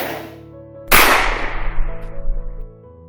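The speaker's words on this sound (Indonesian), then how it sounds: "kamu harus mati Aurel, kata Arni sambil melepaskan tembakan." A single sharp gunshot effect from an Indonesian audio drama cracks loudly over a sustained musical bed and trails off in a decaying echo.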